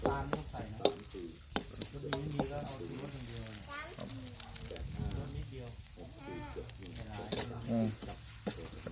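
Field rat meat is stir-fried with seasonings in a hot pan, with scraping strokes over a constant sizzle while someone talks throughout.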